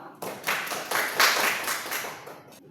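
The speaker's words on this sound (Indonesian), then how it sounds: "Kita tepuk tangan untuk Vero." A classroom of students claps hands together in a short, lively round of applause with overlapping claps that swell quickly, hold steady, then taper off near the end, heard fairly close.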